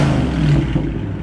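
A 6.4L Hemi V8 on its stock exhaust gives a short, loud rev, the engine note swelling and then easing back within about a second.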